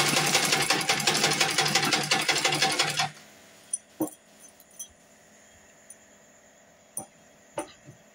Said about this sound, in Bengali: আজকে মেশিনে সেলাই করছি। এটা কিন্তু আমার হচ্ছে সিম্পল মেশিন।